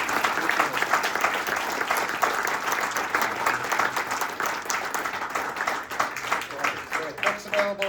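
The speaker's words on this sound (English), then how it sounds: "how about a round of applause for Tommy?" Applause from the audience at a tour guides' association membership meeting, steady clapping that rises and falls in bursts, with some scattered voices mixed in toward the end.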